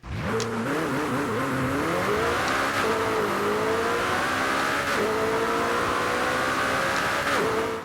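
A McLaren 12C with a 3.8-litre engine in Forza Horizon 5 revs hard and climbs through several gear shifts, ending in a loud, sustained high engine note.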